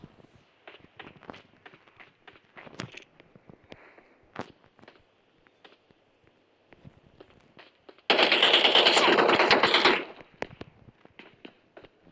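Gunfire in a modded video game: a steady, dense stream of footsteps and small thuds, then a loud two-second burst of rapid automatic fire before the quieter movement returns.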